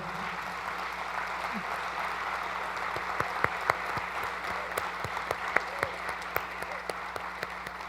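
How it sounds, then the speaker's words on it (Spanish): Audience applause at a legal conference closing session, a steady even wash of many hands clapping, with a few sharper individual claps standing out toward the end. "Un aplauso, por favor"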